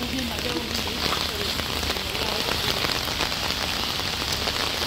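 Heavy rain pours down in a dense, steady hiss of drops hitting surfaces, loud and continuous with no pauses.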